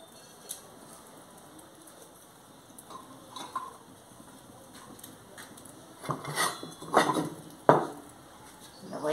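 Food being stirred in a clay pot from Puebla with garlic, onion and salt, giving scraping, clattering strokes that grow louder and more frequent toward the end over a faint steady background.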